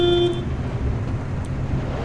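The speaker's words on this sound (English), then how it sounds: "I'm just gonna randomly honk." A car horn in the game Pacific Drive gives one short honk at the start, followed by rumbling engine and road noise from the moving car.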